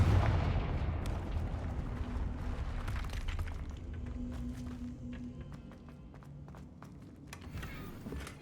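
Confringo fire spell blasting in the Hogwarts Legacy video game, a loud opening boom followed by crackling bursts, rumbling and scattered impacts that gradually fade under game ambience.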